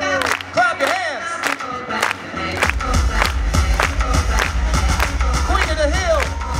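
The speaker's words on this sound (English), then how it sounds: "Come on, y'all. Clap your hands. Clap your hands." At a breaking dance battle, a crowd claps along in rhythm while a host shouts over them and hip-hop music with a heavy bass beat drives underneath.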